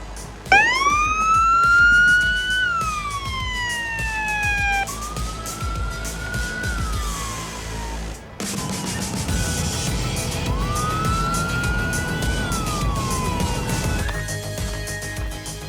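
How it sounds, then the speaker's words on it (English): An emergency vehicle siren wails loud and close, rising and falling in long sweeping tones with a brief break partway through, over steady engine and road noise. "Do you get to use the siren?"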